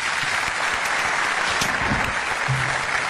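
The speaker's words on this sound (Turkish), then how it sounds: "Ali için büyük bir alkış alayım" Loud, close applause from an audience for a folk singer performing bozlak, continuous clapping with a low voice briefly audible beneath it.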